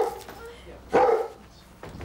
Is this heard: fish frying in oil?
no